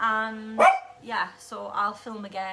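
A dog indoors barks sharply several times close by, the yaps interleaved with a person talking over them.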